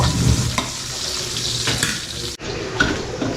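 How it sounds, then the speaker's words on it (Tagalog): Onion, garlic and ginger fry until golden brown in a pan before octopus is added, giving a loud, dense, close sizzle with stirring scrapes throughout. "Hintayin lang muna natin na maging golden brown yung ating sibuyas, bawang, sa luya"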